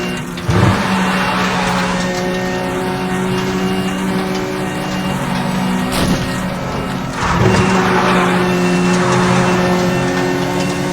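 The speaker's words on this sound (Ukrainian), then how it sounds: "Когось заносить на цій слизькій дорозі." A car in the racing game Need for Speed: The Run skids on a slippery road, tires squealing in repeated sweeping bursts over a continuous loud engine roar.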